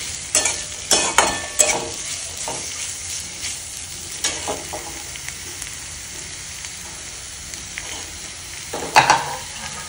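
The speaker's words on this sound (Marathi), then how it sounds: "कांदा, शिमला मिर्च एकदमच टाकून घ्यायचं. जास्त नाही, थोडंसं फ्राय करायचं ह्याला," Onion and capsicum stirred and frying in a pan, a steady sizzle with repeated scraping strokes of a spatula, close and moderately loud, no talking.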